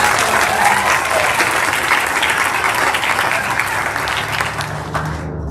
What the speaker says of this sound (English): So a round of applause for our